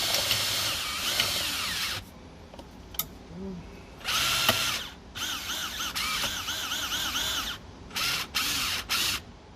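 A power drill whirs in repeated bursts, stopping and starting, as it drives the seat motor of a BMW E90 front seat, with pauses of near quiet between runs.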